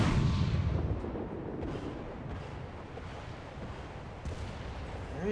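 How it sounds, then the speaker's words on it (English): In War Thunder, the light cruiser Köln fires a broadside from its main guns: a heavy boom at the start that fades into a long, low rumble. "that's one heck of a broadside"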